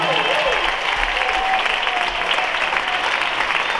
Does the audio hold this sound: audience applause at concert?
yes